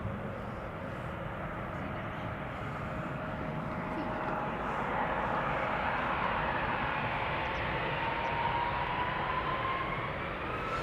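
A KLM Embraer 175 regional jet takes off from Amsterdam Schiphol, a faint, distant, steady engine roar with a slowly rising whine and a soft voice in the background.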